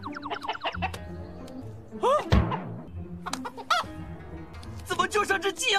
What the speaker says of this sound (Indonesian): Cuma tersisa seekor ayam yang bisa bertelur di mana aja.